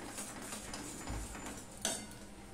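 A thick raw-nut barfi mixture is stirred in a pan with a spatula, giving soft scraping strokes and light clinks against the metal, with a sharper knock near the end.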